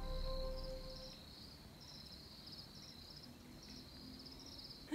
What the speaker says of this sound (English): waking up to the sound of crickets and birds in a sanctuary of green